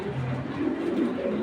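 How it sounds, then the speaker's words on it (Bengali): Pigeons kept for sale coo softly and continuously nearby, their low, rolling calls overlapping with no talking. "এই কবুতরগুলো দেখেন মাশাল্লাহ"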